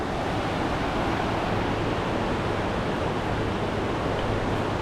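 A loud, constant roar of rushing water, broad and unbroken like a strong river current, with no other sounds standing out.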